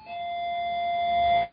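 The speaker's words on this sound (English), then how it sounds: "That's just my doorbell." A house doorbell sounds a single sustained electronic tone, clear and steady for over a second before cutting off abruptly, heard alone without talk.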